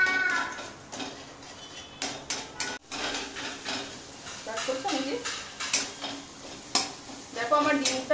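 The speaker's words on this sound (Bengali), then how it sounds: "আমি এবার ডিমটা ভেজে নিচ্ছি।" Egg frying in a pan while Maggi noodles are being made, with close sizzling under repeated clinks and scrapes of a utensil against the pan.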